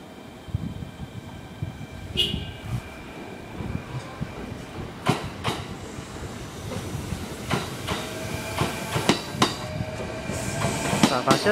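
A Kintetsu train moves through Yamato-Saidaiji station at moderate volume, with rumbling wheels, sharp clanks and metallic squeals building gradually toward the end.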